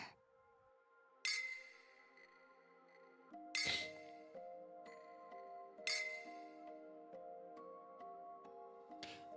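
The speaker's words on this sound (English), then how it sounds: "Only the clinking of glass bottles fills the air." Glass bottles clinking together in Goddess of Victory: Nikke, four bright separate clinks spaced a couple of seconds apart over quiet, gently ringing background music.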